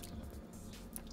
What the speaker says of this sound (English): I'll rinse it again with some clean water, not tap water, distilled or spring water would be best.